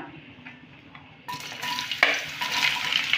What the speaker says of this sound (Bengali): পটল আর আলু দুটো একসাথেই ভেজে নেব